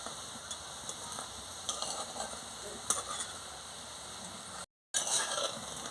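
Soybean gram-flour fritters fry in oil with a faint, steady sizzle, broken by soft stirring clicks and scrapes of a utensil, plus one brief dropout of sound.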